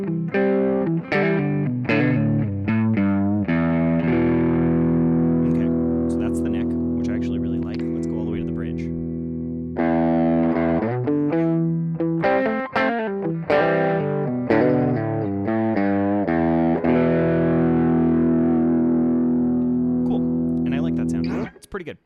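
Electric guitar played through a distorted preset on a Boss GX-10 effects unit, with thick sustained chords and single-note phrases that ring out loudly and continuously, a brief gap near the middle, alone without talk.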